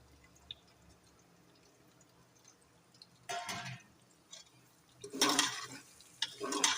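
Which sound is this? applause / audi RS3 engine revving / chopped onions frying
chopped onions frying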